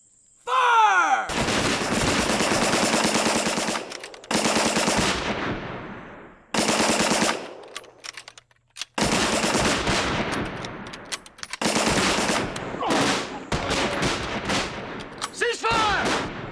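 Rifle volleys in a war movie crack out in loud, repeated bursts of gunfire on command, separated by short silences, with a shouted order just before the firing.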